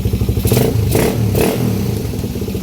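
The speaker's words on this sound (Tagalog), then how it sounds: "start pa na natin para marinig nyo naman ang tunog ng makina" A Honda Raider 150 motorcycle engine idles nearby with a steady rapid putter and is blipped a few times, each rev rising and falling quickly, loud and close with no talking.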